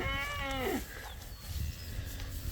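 A calf on a cattle farm lets out a single loud, wavering moo that breaks off after under a second, leaving quieter outdoor background noise.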